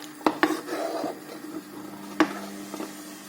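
A utensil clinks and scrapes against a metal pot in a few sharp knocks while stirring sweetened falooda mixture, with soft stirring noises and a low hum between them.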